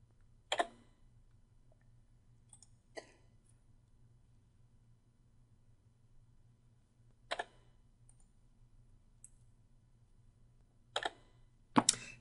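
A computer mouse gives sharp single clicks, some in quick pairs, heard close and separated by long quiet gaps, with no voices.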